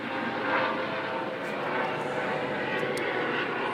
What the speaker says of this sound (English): there's that orange helicopter that visits us every afternoon